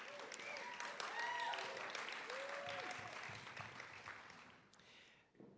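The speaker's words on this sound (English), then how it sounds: "That's worth clapping for." A large crowd at a 2024 Antioch commencement ceremony breaks into sustained clapping with scattered cheers and whistles, holding steady before tapering off at the end.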